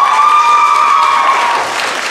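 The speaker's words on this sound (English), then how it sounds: "Annalise Churchill is not here, but give her a nice round of applause, and Gabby Fournier." An audience applauds contestants at a results announcement, a dense, loud clapping wash that carries on steadily and begins to thin toward the end, with no talk over it.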